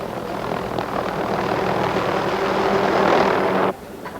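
A helicopter ferrying harvested trees to a collecting yard, its steady rotor and engine roar loud and constant for over three seconds before cutting off abruptly, with no talk.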